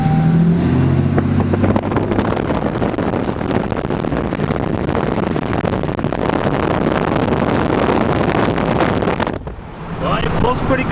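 A Dodge Ram 3500 pickup, a rebuilt truck on a test spin, heard from inside the cab as steady road and engine rumble with heavy wind buffeting across the microphone, dropping briefly near the end.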